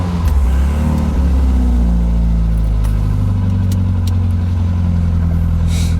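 A 1978 MG Midget engine hums steadily while driving, a loud, constant low drone with faint road noise and a brief rise in pitch near the end.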